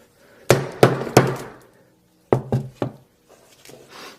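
Hammer blows strike a Samsung S6 Edge phone in a durability test, three sharp loud impacts close together, a pause, then three more, ending in faint scraping.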